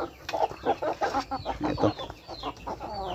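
Chinese Silkie chickens in a backyard coop clucking in a steady run of short, close, fairly soft notes, with a few higher squawks.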